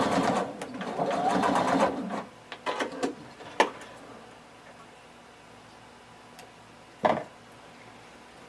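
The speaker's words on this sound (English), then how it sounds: "you can either pin it or hold it in place and then stitch it down." Sewing machine stitching a shorts pattern piece, a fast close whirring run for about two seconds, followed by a few short bursts and isolated clicks, then quiet.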